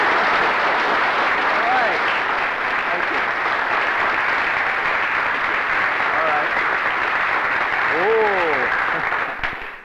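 Members of a band applaud their conductor with dense, loud clapping that stays steady throughout and fades at the very end. A few faint voices and brief whistles can be heard underneath.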